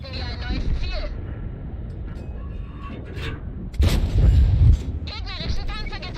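A tank gun in World of Tanks fires with a deep, loud boom and rumbling impact in the middle of the clip, surrounded by game radio voices and engine noise.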